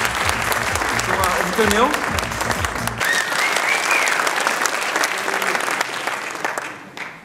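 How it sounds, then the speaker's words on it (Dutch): Theater audience gives loud, sustained applause as a volunteer named André is called onstage by a Dutch speaker, with a voice talking over the clapping early on and the ovation fading out at the end. "Grote applaus voor André."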